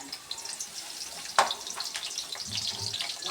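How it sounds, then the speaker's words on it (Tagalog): Onion sautéing in oil in a home kitchen, a soft steady sizzle under clinks of a utensil, with one sharp metallic knock partway through; close and moderately quiet, no talking. "Magigisa na po tayo. Una po natin yung ating sibuyas."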